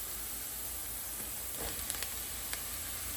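Onions and mushrooms sizzle steadily in a hot pan with a soft hiss, joined by a few brief clinks near the end.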